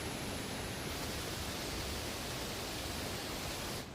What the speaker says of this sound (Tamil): மெயினாக இந்த ஃபால்ஸோட சவுண்டு தாங்க.